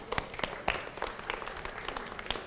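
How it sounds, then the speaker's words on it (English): Audience applause at a camp meeting gathering: light, scattered clapping with a brief fuller burst, fairly faint and distant across the room. "Let's give them a hand of applause."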